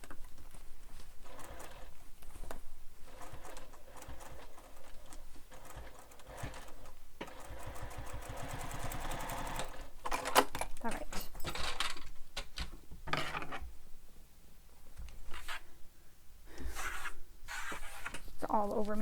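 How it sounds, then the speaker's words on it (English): A sewing machine stitches a Howie bowler bag in rapid whirring runs, starting and stopping several times with short pauses and fabric rustling between, fairly close and steady. "I'm just stitching back around just for some extra security"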